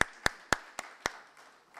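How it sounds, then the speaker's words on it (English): Audience at a panel discussion on dairy digitalization claps for the panel members: a handful of sharp, evenly spaced claps, fairly faint and roomy, thinning out toward the end. "Let's give them a huge round of applause"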